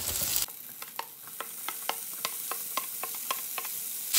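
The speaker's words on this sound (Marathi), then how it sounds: "कांदो मातसो पिंक जायसर हांगा फ्राय करून घेता" Onion and tomato frying in a pan, with a soft continuous sizzle under a steady series of sharp spoon taps and scrapes about every third of a second, close by, after a louder burst at the start.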